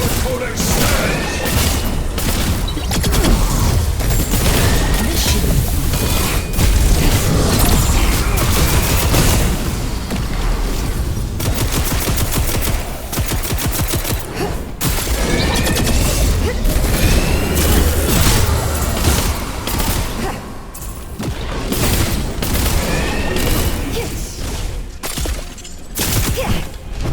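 Rapid bursts of video game gunfire and booms crackle almost nonstop through a busy battle in Wayfinder Echoes, loud and dense, with a player's voice talking over the action at times.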